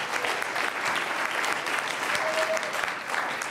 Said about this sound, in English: Can I get a round of applause for everyone that has participated so far?